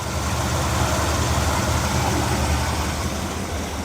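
A carbureted engine idles steadily after its idle mixture screws were turned in about half a turn on each side, giving a dense, even, continuous rumble heard close up with no talking.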